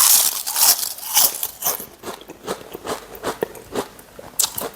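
Crisp papadums snap and crunch between the teeth in quick repeated bites followed by chewing, close and distinct with no talking.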